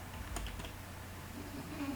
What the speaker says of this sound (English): We'll type Alexa in capital letter